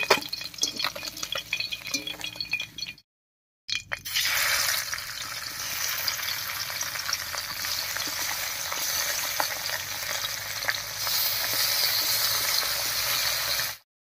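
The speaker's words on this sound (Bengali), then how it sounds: "মাছগুলো সব ভাজা হয়ে গেছে, নামিয়ে নিচ্ছি।" Fish sizzles in hot oil in a pan with a loud, dense, crackling hiss that runs steadily, cuts out briefly near the start, then resumes until a sudden stop.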